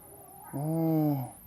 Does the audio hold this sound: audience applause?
no